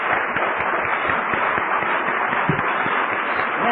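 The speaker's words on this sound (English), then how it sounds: "How about let's give them a round of applause?" Steady applause from a convention audience honoring the committee, a dense continuous patter of many hands clapping at even loudness throughout, with no voices over it.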